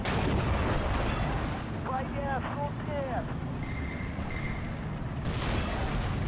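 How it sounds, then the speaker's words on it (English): In Steel Division 2, a StuG IV assault gun fires on a ZIS-2 anti-tank gun: heavy cannon blasts rumble through a dense, noisy battle mix, with whistling tones and wind-like hiss layered over the steady din. "my ZIS-2 is now taking fire from the Stug 4"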